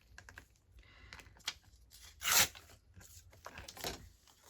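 Antique fabric edge torn by hand, a short scattered sequence of soft rustles and plucks building to one louder rip midway, close up and otherwise quiet.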